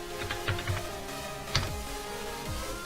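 A few quick keystrokes on a computer keyboard, close and light, in short bursts, then a single firmer key press, with a low steady hum behind.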